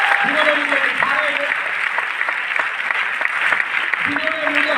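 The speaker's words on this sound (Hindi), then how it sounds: "जोरदार तालियां इस इंसान के लिए" Sustained applause from an audience at a sales training seminar, steady and fairly loud throughout, with a voice speaking over the clapping.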